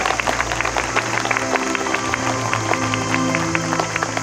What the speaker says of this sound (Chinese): 请大家先来给他们一个掌声鼓励好吗